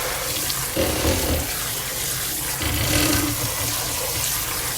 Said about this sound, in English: sprinkle on the water and just get all around in it.